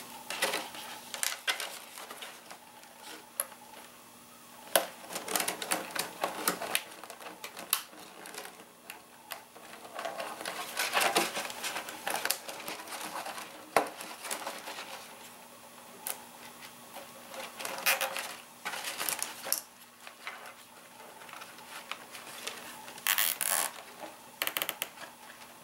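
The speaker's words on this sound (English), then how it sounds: "Alright, we need a couple zip ties," Zip ties ratcheted tight while mounting amber LED body lights on a police vehicle: intermittent bursts of quick clicking and zipping, close and fairly quiet, separated by pauses and small handling noises.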